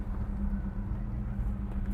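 A 1967 Chevrolet El Camino's small-block V8 runs at a steady idle, giving a continuous low, throbby rumble with no one talking.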